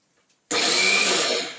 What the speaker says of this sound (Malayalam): ഇനി നമുക്ക് ബാക്കിയുള്ള പരിപ്പ് കൂടി നമുക്ക് ചതച്ചെടുക്കാം.